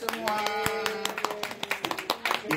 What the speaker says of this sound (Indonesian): Tepuk tangan buat adik-adik semua.